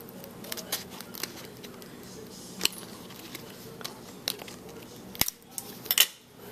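Scissors trimming the excess off a handmade paper baby cradle card: sparse, quiet snips and crisp clicks close by, scattered irregularly with soft handling rustle between them.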